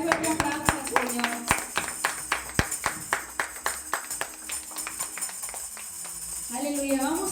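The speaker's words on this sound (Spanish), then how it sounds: "Dale un fuerte aplauso al Señor." Congregation clapping at a Sunday church service, a steady rhythmic handclap in time, loud at first then softening, with a voice speaking over it near the end.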